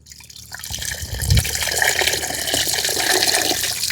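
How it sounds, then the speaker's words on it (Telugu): Water poured steadily into a pot of tamarind fish curry, starting after a brief quiet moment and continuing as a close, splashing stream. "కొద్దిగా నీళ్ళు పోసుకుందాం"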